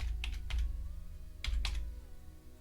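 Keys tapped on a Kindle keyboard, two small clusters of soft, close clicks separated by a pause, quiet against a low steady background hum.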